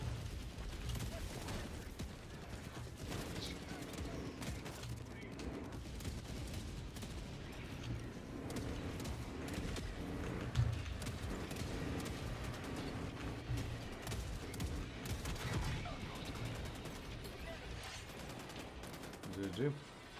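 Muffled, distant tank gunfire and battle rumble from the video game World of Tanks plays quietly and continuously, with occasional louder bursts and low mechanical noise underneath.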